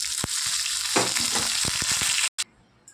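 Curry leaves temper in hot oil for a kadhi, crackling and spitting in a busy sizzle with a few stirring knocks before cutting off abruptly near the end.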